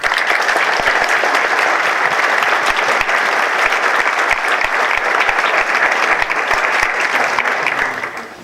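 A large audience at a lecture by a Supreme Court justice bursts into loud, sustained applause, a dense wash of clapping with some sharp individual claps, fading slightly at the end.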